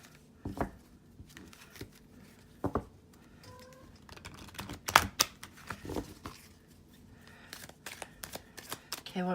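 Tarot cards handled and shuffled, with soft riffling bursts, light taps and slides at close range in a quiet room, irregular and faint.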